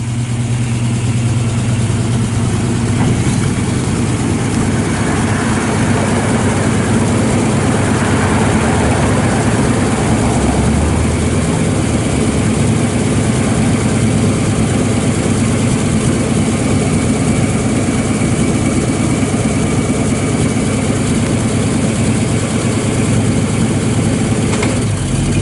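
A 1966 Chevy II Nova engine idles loudly and steadily with a deep, rumbling exhaust note through dual exhausts, unbroken for the whole stretch.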